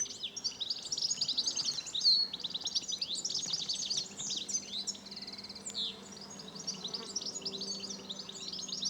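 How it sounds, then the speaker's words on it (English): Several goldfinches singing outdoors near a church in an English village, bright twittering phrases and chirps running continuously and overlapping, fairly close and steady throughout with no talk. "Plenty of goldfinches around,"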